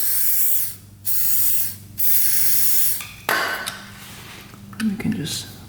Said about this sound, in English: Get a little WD-40 going.